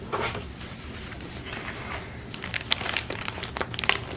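Sheets of watercolor paper being handled up close, giving soft crinkling and rustling with a few sharper crisp snaps toward the end, no talking.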